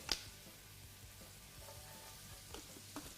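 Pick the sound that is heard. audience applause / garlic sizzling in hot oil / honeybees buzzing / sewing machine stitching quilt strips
garlic sizzling in hot oil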